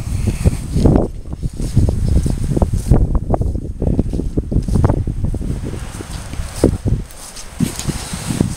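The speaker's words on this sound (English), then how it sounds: "it's still very windy, blowing a gale" Strong gale-force wind buffets the microphone in loud, gusty bursts throughout a rainy countryside walk, with rushing low rumble rising and falling alone, no talk.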